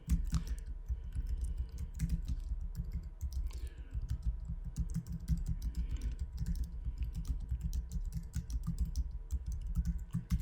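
Steady typing on a computer keyboard, a dense run of clicks and key taps continuing without pause at moderate loudness, with no talking.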